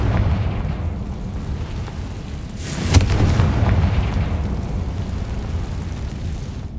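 A Confringo fire spell bursts in Hogwarts Legacy, a single loud blast rising out of a dense, rumbling game soundscape and then fading into a sustained roar.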